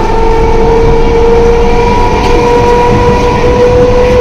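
Inside a nearly empty moving passenger train, heard as a loud, continuous rumble with a steady mechanical hum and constant wind and track noise, with no speech.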